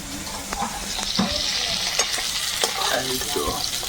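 Pointed gourd frying in a pan for a festive prawn dish, a steady close sizzle of hot oil with faint stirring scrapes and soft spatters running throughout.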